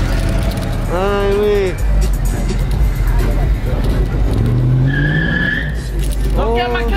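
Cars at a car meet: loud tire squeals rise and fall twice, with engine revving and a crowd of voices chattering close by throughout.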